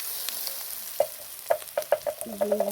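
Omelette pieces frying with ginger in a pan: a steady low sizzle broken by a run of sharp spatula knocks and scrapes, close and fairly loud, growing busier toward the end, with no talking.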